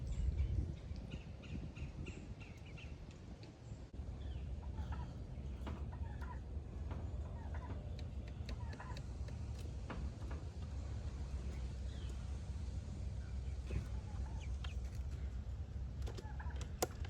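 Chickens and turkeys cluck and squawk now and then across a farmyard, over a steady low rumbling background.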